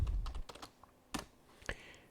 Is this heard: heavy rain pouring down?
no